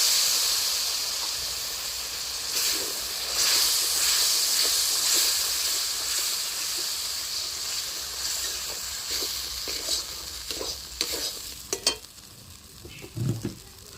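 Water splashed into cashew and poppy-seed paste frying for a jackfruit curry, giving a hissing sizzle followed by scattered stirring scrapes and clinks that grow sparser toward the end, close by.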